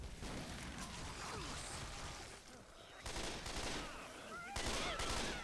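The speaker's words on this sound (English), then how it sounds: "Du har skudt mig, og så skyder jeg dig." Video game gunfire in Left 4 Dead 2, bursts of rapid shots and crashes rising and falling over several seconds, fairly faint and mixed with game ambience.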